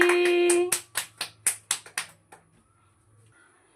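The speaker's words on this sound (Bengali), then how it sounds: "হাততালি।" A run of about eight sharp, evenly spaced hand claps rings out close by, following a brief sustained tone, then falls quiet.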